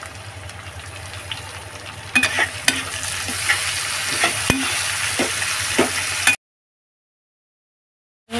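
Chopped tomato goes into onions fried until reddish for a chicken kosha, setting off a loud steady sizzle with repeated scraping stirs and knocks of a spatula, then silence near the end.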